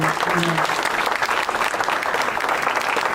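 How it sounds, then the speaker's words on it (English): Audience applause at an education event for a career-pathway curriculum launch, a dense, steady roar of many hands clapping throughout, with a faint voice briefly audible beneath it near the start. "And I want to give another round of applause to our great secretary."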